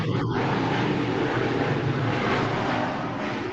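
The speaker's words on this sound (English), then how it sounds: "I live about 300 meters from an airport, so I get planes flying in and out." An airplane passes overhead about 300 meters from an airport, a loud, steady broadband roar that fills the whole stretch with no break and eases only slightly near the end.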